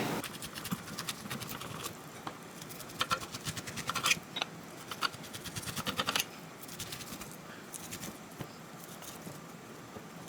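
Knife scraping and slicing kernels off an ear of corn, a series of soft crisp cuts and rasps, close and fairly quiet, with brief pauses between strokes.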